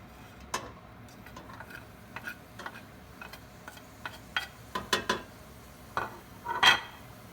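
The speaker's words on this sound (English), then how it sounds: "We're going to give it a couple of good stirs and really let the oil and the pan come into contact with all the vegetables." Onion and green peppers stirred in an oiled pan, a faint background sizzle with a series of sharp scrapes and clacks of the utensil against the pan, sparse at first and then clustered, close.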